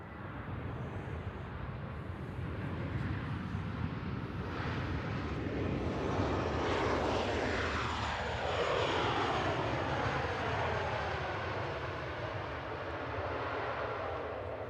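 Jet engines of a Boeing 737 MAX 8 at Manchester Airport, a loud continuous roar with shifting whine as the airliner passes, steady and fairly close with no talk.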